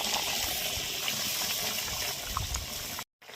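Small khalshe fish dropped into a pot of boiling water for a brinjal fish curry, a steady close bubbling and watery churning that runs unbroken for about three seconds, then stops abruptly in a brief silence.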